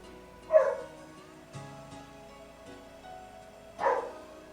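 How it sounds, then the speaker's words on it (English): Pet dogs barking twice, a few seconds apart, sounding somewhat distant over a faint steady background hum. "Looks like the doggos are barking again."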